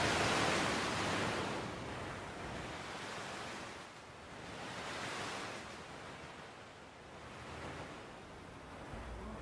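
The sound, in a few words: beach ambience with ocean waves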